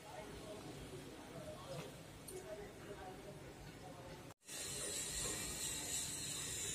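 A sewing machine stitches a strip onto a pillow cover, a close, quiet mechanical clatter that cuts out briefly, then resumes with a brighter, steadier whirr.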